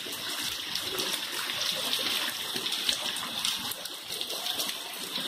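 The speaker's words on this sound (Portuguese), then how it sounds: "Tendo um riacho de água ali na frente." Heavy rainwater runs like a small stream along a paved street outside a house in Cacimba de Dentro, Paraíba, during a downpour, a steady close rushing and splashing with no voices.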